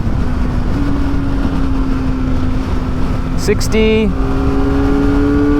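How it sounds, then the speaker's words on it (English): Kawasaki ZX4RR motorcycle accelerating in 4th gear on a highway in traffic, a loud steady engine drone rising in pitch over heavy wind rush, with a brief spoken word partway through. "bike accelerates in 4th gear, going from about 60 to 80 or so"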